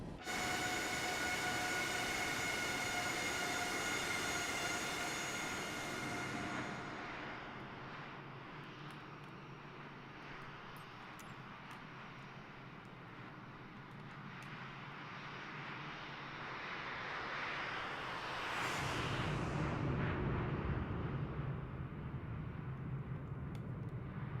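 A Boeing 737 cruises in Microsoft Flight Simulator 2024, played on PS5 Pro, with a continuous quiet jet-engine drone and a whining tone that fades, then a louder whooshing swell late in the clip.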